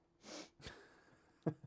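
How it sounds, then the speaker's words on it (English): A quiet, close sneeze: a sharp breath in followed by a brief, snorting burst at the end, with no talking. "have to sneeze."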